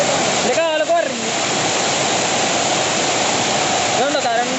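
The Olichi waterfall in Kerala gives a constant loud roar of rushing water close by, while voices speak briefly over it at the start and the end.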